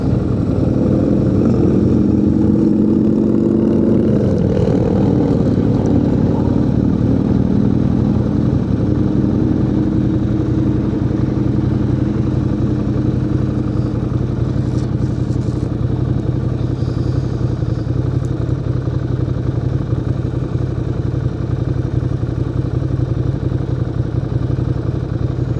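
A Ducati motorcycle engine swells briefly as it passes close by early on, then fades into a steady, loud drone of engine and wind from a moving motorcycle that continues throughout.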